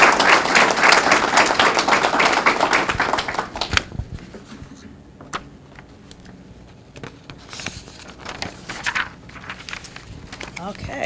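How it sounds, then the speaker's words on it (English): Audience applause at a school board meeting in Queen Anne's County: a loud burst of many hands clapping that stops abruptly after about four seconds, then sparse scattered claps, footsteps and room shuffling, with a few voices speaking. "Let's give a round of applause to Mrs. Kilner."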